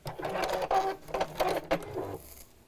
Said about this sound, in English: just sewing straight lines here